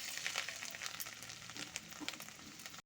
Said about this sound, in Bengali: আঁচটাকে মিডিয়ামে দিয়ে আমি রসুনটাকে একটু ভাজা ভাজা করে নেব।